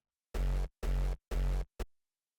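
An original rawstyle kick drum hits three times in a loud, evenly spaced pattern, each a heavy booming thump with a buzzy tail, followed by a short clipped fourth hit, alone with silence between.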